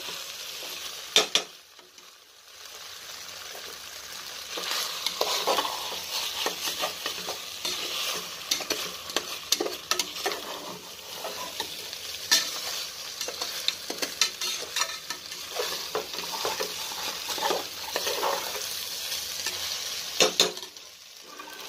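Rice is stirred in a pan while biryani cooks, giving scraping, shuffling strokes over a soft sizzle. The sound is fairly quiet and continuous, with no talking.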